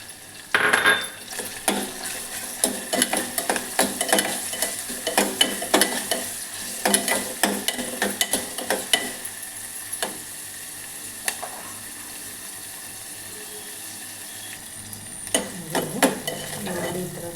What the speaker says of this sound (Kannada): ಈರುಳ್ಳಿ ಈ ಥರ ಫ್ರೈ ಆಗಿದೆ.